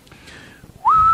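Someone whistles the opening of a song as a short rising note that steadies into a loud held tone, preceded by a fainter wavering whistle.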